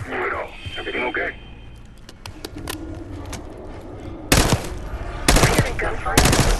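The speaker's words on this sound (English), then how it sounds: "Gunfire? Yeah. Sounds like it's coming from one of the lower floors." Automatic gunfire in Call of Duty Black Ops 6 rattles from the lower floors of a building in several sharp, loud bursts toward the end, after a stretch of people talking and quieter background sounds.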